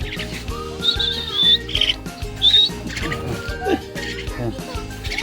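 Pet birds chirping in short, bright bursts close to the microphone, mixed with other household sounds and a person talking.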